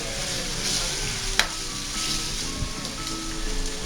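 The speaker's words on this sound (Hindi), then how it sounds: "जीरा, मेथी दाना, नमक, हल्दी, इसे थोड़ा सा फ्राई करूंगी।" Cumin, fenugreek seeds, salt and turmeric fry in a pan, giving a steady close sizzle throughout with a few stirring scrapes and one sharp tap, no voices.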